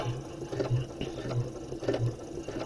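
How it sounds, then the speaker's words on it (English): A sewing machine sews a regular-length stitch through fabric as back stitching is practised. It makes a close, steady mechanical chatter with a rhythmic thump at each stitch, running continuously through the short stretch. "I'm going to sew to the end of the fabric, and then I'm going to come forward."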